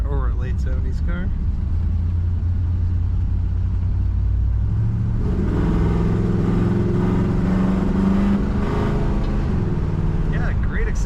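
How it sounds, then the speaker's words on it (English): A 1980 Pontiac Trans Am Indy Pace Car builds engine rumble that deepens and rises as it accelerates, a steady loud drone with a shifting pitch partway through, heard from close by. "Yeah, great acceleration in this Trans Am."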